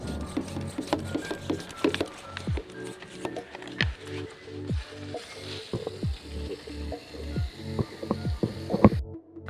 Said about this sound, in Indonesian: tinggal kita semprot seperti biasa